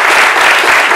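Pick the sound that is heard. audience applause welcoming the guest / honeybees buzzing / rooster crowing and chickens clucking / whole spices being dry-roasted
audience applause welcoming the guest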